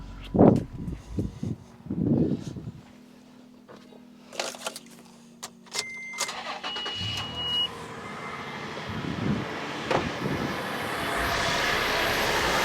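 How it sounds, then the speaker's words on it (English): A vehicle started with a jump starter battery booster: a few thumps and clicks, a brief electronic tone, then an engine catching and settling into a steady, fairly loud idle rumble. "turn off all accessories and start the vehicle"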